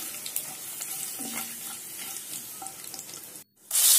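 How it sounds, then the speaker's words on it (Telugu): Garlic, cumin, curry leaves and dried chillies frying in a pan for Andhra chicken masala curry, a steady close sizzle with light stirring scrapes, then a brief silence and a sudden louder burst of hissing. "ఎల్లుల్లిపాయలు వేసుకున్నాను, తర్వాత జీలకర్ర, కరివేపాకు, ఎండుమిర్చి యాడ్ చేశాను. ఒకసారి మిక్స్ చేద్దామండి."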